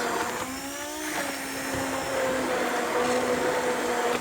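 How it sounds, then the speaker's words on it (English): An immersion blender whirs through roasted tomato basil cream soup, a loud, steady motor whine that shifts pitch slightly as it churns, running continuously without speech. "So this is your immersion blender in action. The more you run it, the smoother it's gonna get."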